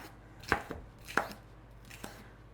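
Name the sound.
chopping bell peppers into small pieces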